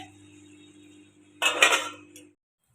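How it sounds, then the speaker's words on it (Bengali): Dishes and pots clink and clatter in a short, busy burst of washing-up, close by over a low steady hum, with no voices. "বাসন হয়ে গেছে অনেকগুলো বাসন কটা মেজে নিই"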